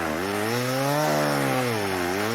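A chainsaw roars in The Texas Chainsaw Massacre Part 2, a loud, close, continuous engine drone that dips and rises in pitch as it revs, heard alone.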